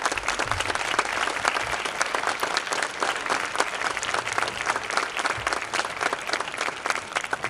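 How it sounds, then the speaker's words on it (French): A crowd at the Fête du Ruban Cour d'Amour in Mouriès applauds loudly and steadily, a dense patter of clapping hands that carries on without pause. "je pense qu'on peut l'applaudir fortement ce soir"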